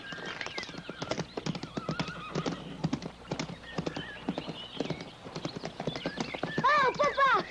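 A horse's hooves clip-clop in a steady rhythm close by, then a whinny rises near the end.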